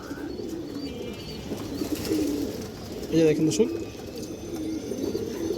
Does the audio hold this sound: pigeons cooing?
yes